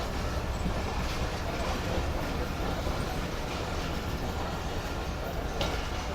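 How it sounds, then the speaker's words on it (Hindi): Jaffer Express train with a Chinese locomotive pulling into platform 5 on the way to Lahore, a steady broadband rumble with faint rail clatter, heard close and continuous without talk. "तो ये फाइनल प्लेटफॉर्म नंबर 5 पर पहुँच चुकी है ट्रेन"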